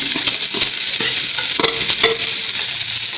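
Onions frying in a pan with curry leaves, a loud continuous bright sizzle close up, punctuated by a few light clinks and scrapes of stirring.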